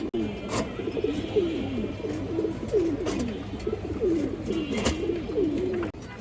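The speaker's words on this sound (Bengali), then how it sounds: "রিং চোখের পুরান জাতের কবুতর একদম 2000 টাকা পড়বে।" Old-breed ring-eyed pigeons coo in a steady, rhythmic run of low throaty calls, close and fairly loud, with faint background noise throughout.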